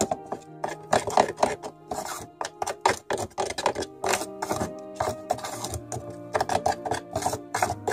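Thick clay face mask for acne being stirred in a bowl, a busy run of close scraping, knocking and rubbing strokes repeating irregularly throughout with no talk.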